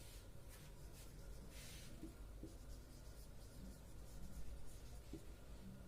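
Pen scratching on paper while numbers are written out during a class-3 maths test solution, soft continuous scribbling with a few brief strokes, faint and close over a quiet hiss.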